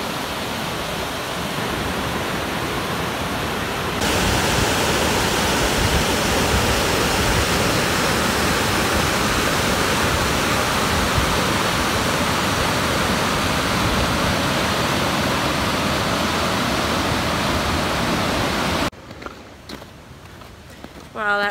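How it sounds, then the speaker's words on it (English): Continuous broadband rushing of a winter waterfall pouring into a lake, steady and loud for most of its length, then cutting off abruptly near the end, followed by quiet handling noise. "Frozen waterfalls going into the water there."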